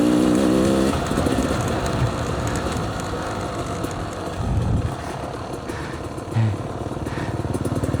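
A Beta Xtrainer motorcycle rides along a rutted green lane byway, its engine buzzing loudly and steadily close by, with brief revs and surges rising over the continuous drone and rough wind noise.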